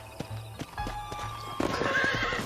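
In Red Dead Redemption, a horse neighs loudly up close while hooves clip-clop steadily underneath.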